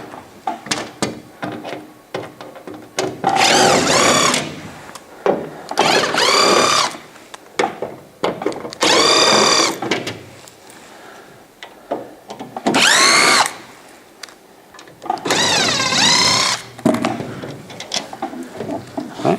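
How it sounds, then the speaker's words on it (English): Power drill backing six Phillips head screws out of a freezer cover during a defrost thermostat replacement: repeated whirring bursts of a few seconds each, separated by quieter handling and clicks, close and loud. "We'll use a drill here to take it off."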